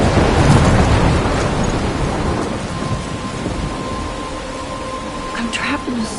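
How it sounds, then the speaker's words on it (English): Thunderstorm in Life is Strange: a heavy rumble of thunder opens over steady pouring rain, fading into hissing rainfall, with a short burst of sound near the end. "I'm trapped in a storm?"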